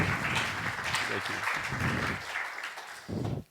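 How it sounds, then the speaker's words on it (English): Audience applause at a tech and insurance industry event in Gibraltar, a steady wash of clapping lasting about three seconds that fades briefly before a short final burst. "Round of applause, please."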